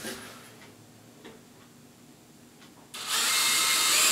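A power drill bores a hole through the wooden lip of a beehive hive body. A few faint ticks come first, then a loud, steady, close-up whir takes over for the final second or so.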